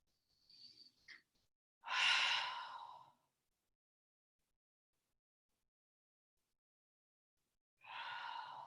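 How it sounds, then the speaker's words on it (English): Slow, deep breaths are taken while holding a forward fold in a hip-opening yoga session: a long, audible exhale, then quiet, then another breath starting, close and soft with no talking. "We'll take 3 deep breaths here."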